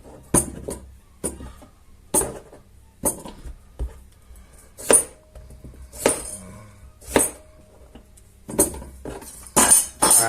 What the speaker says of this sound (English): I've chucked them in the pot with the chorizo and the boiled eggs, which I did wash